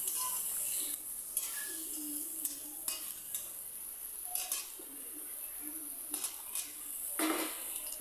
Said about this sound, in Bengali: তারপরে আমি মাংসটা দিয়ে দিলাম।